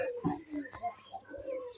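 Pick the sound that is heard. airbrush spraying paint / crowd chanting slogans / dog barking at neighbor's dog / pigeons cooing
pigeons cooing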